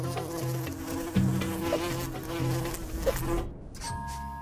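Wasps buzzing close by, a steady droning hum with shifting pitch as they fly around, continuous and fairly loud without talk.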